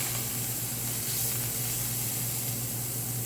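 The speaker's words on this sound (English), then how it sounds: "I'm going to put my margarine in the pan." Margarine melts in a hot pan for butter chicken, giving a close, steady sizzling hiss that runs evenly throughout, with a faint low hum beneath and no talking.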